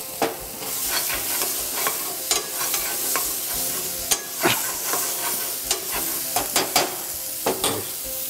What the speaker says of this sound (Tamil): சிக்கன் போட்டு மிக்ஸ் பண்ணியாச்சு